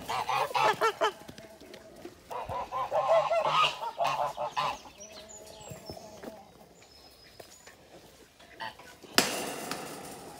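Farm geese honk in bursts nearby, loud clusters of calls fading to quieter stretches, with some background knocking and a person's voice briefly heard.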